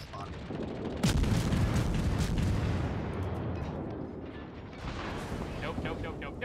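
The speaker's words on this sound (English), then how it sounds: "those are my anti-air guns" Destroyer's anti-air guns firing in the naval combat game World of Warships, a dense rumbling barrage of rapid booms and crackle that persists throughout, with a voice speaking over it.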